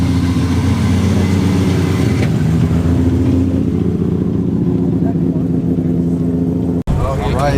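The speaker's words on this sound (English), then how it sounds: "Mark 4 Supra rolling out." A Mark 4 Supra pulls away at a hot outdoor cars and coffee meet in Austin, its engine a steady loud rumble with rising revs, mixed with crowd chatter, before a brief cutoff near the end.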